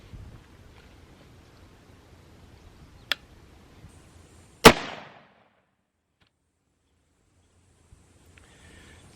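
A single sharp, loud gunshot from an HHI SSP-91 Lone Eagle hunting handgun cracks out in a quiet outdoor setting and decays quickly, preceded a second earlier by a small click.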